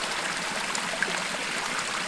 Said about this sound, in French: L'eau de la source coule au pied du promontoire, vers la rivière l'Isle, en contrebas.